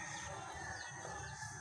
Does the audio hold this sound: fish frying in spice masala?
no